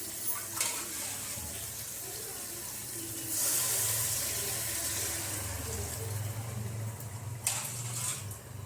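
Water pours steadily into a pot of chicken biryani rice, a continuous splashing rush that swells midway and then eases, with faint background noise.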